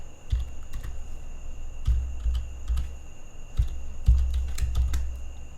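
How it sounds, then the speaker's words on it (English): Someone types on a computer keyboard in quick clusters of clacking keystrokes with short pauses between bursts, close by with no voices over it. "Be careful what you are typing."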